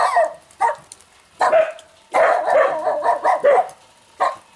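Dogs bark in a snowy yard in late winter, a series of sharp, close barks in irregular bursts, some clustered rapidly together with short pauses between.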